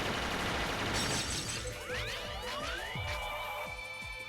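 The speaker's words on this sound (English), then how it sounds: "That's such a wimpy glass sound." Glass shatters in the Mega Man X video game: a bright crash followed by a spray of tinkling shards with descending chimes, fairly loud and alone.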